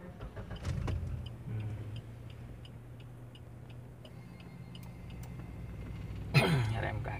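A manual-transmission car in a driving lesson: a steady low engine hum inside the cabin, then a sharp starter crank burst near the end.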